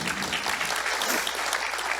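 Sustained applause from a crowd, thick and even, many hands clapping at once without pause.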